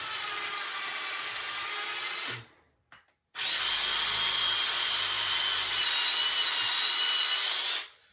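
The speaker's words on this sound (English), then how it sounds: "you take your drill with a standard bit and you drill in" A power drill with a standard bit whines steadily into wood for about two seconds, stops briefly, then drills again for several seconds before cutting off.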